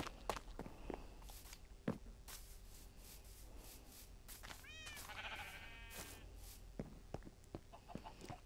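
Sheep in a video game bleat in a wavering cry, mixed with soft footsteps, clicks and a clucking chicken over a low steady hum.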